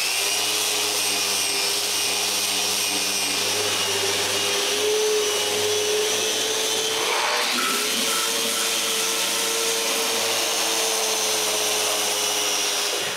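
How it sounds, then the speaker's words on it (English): A loud, continuous motorized whine and rough rasping of a power sander on a cedar box, with a brief dip in pitch partway through. "Everything needs a good sanding right now."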